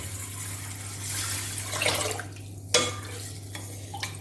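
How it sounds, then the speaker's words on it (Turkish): Water is poured over lentils set to soak in a bowl for bread making. A rushing, splashy pour builds and fades, and a sharp clink comes near the end over a steady low hum. "Üzerine çıkacak kadar su ekliyorum."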